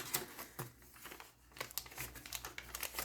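Pages of a handmade paper journal with stitched pockets rustle and crinkle up close, a quiet series of crisp crackles and soft flaps as a page is turned.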